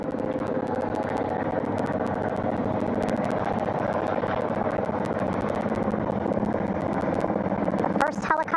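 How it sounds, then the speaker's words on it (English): A recovery helicopter hovers over a ship's flight deck near the bow during the Artemis II crew recovery in the Pacific, a steady rotor thrum and engine whine heard from fairly close, filling the whole stretch with constant drone. "Hearing them begin to hover on the flight deck, which is just across from us"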